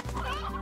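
Chickens clucking in Slime Rancher, a short, close burst of hen clucks sounding alone.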